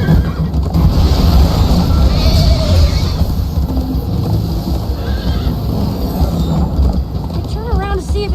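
Horse neighing and whinnying amid galloping clip-clop hooves in the Minecraft: Story Mode video game, loud and continuous, with voices talking over the action and a game soundtrack underneath.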